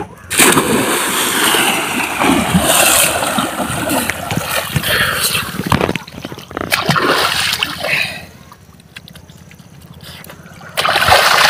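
Water splashing and churning in a village bathing pool, a steady loud rush of splashes for several seconds, easing into a quieter trickle before surging again near the end.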